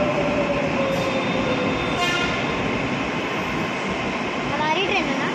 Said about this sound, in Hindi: आ गई ट्रेन, मैं बस एक सेकंड गिना और देखो आ गई